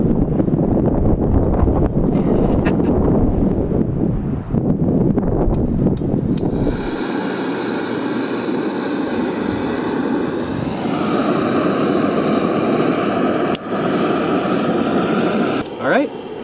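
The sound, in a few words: Soto Windmaster backpacking stove burning fuel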